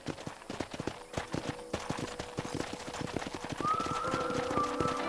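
Rapid clip-clopping horse hooves patter near a corral in Red Dead Redemption over a background of game ambience, with a faint tonal whinny-like sound near the end.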